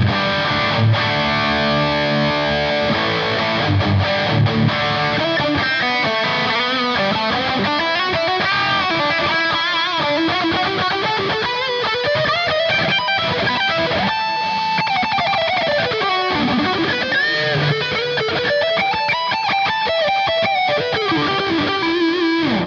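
Electric guitar lead tone played through a Tube Screamer overdrive pedal on a HeadRush unit, a sustained, singing distorted melody with bends and slides, loud and continuous throughout with no talking.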